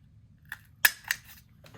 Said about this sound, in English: we're gonna cut a circle out of this